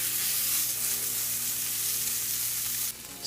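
Salmon fillet searing in olive oil in a pan over high heat, a steady close, loud sizzle and crackle running unbroken throughout, with no voices.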